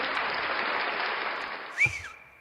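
A burst of clapping and cheering from a crowd fades out, followed by a short rising-falling whistle near the end.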